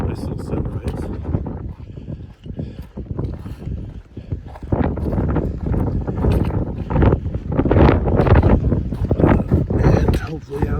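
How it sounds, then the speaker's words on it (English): Gusty wind blows across a hillside trail and buffets the microphone in uneven, rumbling surges that grow stronger toward the end, with footsteps and faint breathing underneath. "The hill's breaking up the wind a little bit"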